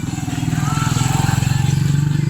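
Motorcycle, a single-cylinder bike, running close by with a steady low throbbing engine note and rapid pulsing rhythm throughout, loud and continuous.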